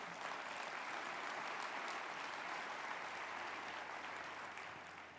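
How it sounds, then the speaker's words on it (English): Audience applause at a welcome address in Atlanta, a steady wash of clapping from a crowd that holds for several seconds before fading slightly. "you can clap for that"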